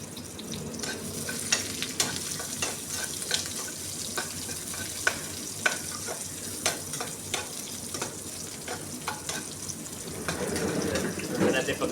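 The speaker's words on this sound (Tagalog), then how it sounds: "Sunod natin yung sibuyas, onion. Mikos-mikos lang natin." Chopped onion sizzles and hisses in a hot pan while being stirred, with steady frying crackle and scraping of the utensil against the pan throughout, close and moderately loud.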